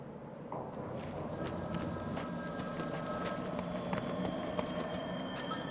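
A phone rings in the Arkham City video game, with a faint repeating electronic ring over a constant low rumbling ambience and no voices.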